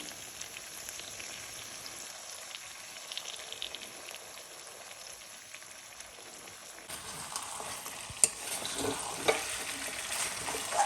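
Chicken sizzling in a pan as a cashew and dried chili paste is added and stirred in, with quiet, soft frying that grows louder, busier crackling partway through, plus a few light scraping knocks.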